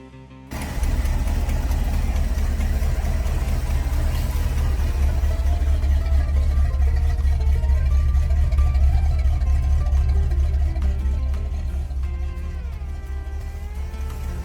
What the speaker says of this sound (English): Under the hood beats the original V8, a 455 cubic inch powerhouse paired with a turbo 400 automatic transmission